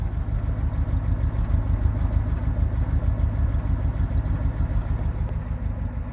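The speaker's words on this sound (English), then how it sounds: "Nice little 8-cylinder burble" A 1941 Buick Super 56C convertible coupe's V8 idles steadily close by, a low, even eight-cylinder burble that holds without a break for the whole stretch, with no voices over it.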